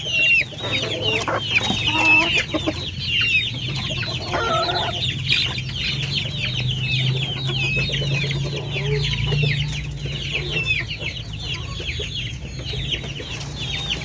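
A flock of tame breeder chickens fed commercial breeder pellets clucks and chatters continuously, with overlapping calls near and far over a low steady background hum.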